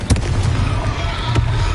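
A blast spell going off in a fantasy video game: sharp bursts near the start and again after a second, set over a continuous low rumbling game soundtrack.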